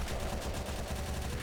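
A chaingunner enemy fires in the Doom video game, a dense, continuous rattle of rapid shots filling the short moment at steady loudness.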